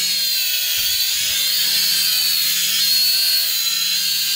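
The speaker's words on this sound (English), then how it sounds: "When the switch is on top, then the quadcopter will go forward," Small Syma X5C quadcopter drone with its tiny electric motors spinning, giving a steady high-pitched whine and buzz throughout, close and continuous with no talking.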